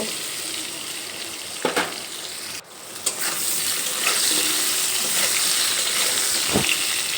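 Potatoes sizzle steadily as they fry in a pan over a medium gas flame, with a few scrapes and knocks of stirring breaking through the continuous close hiss.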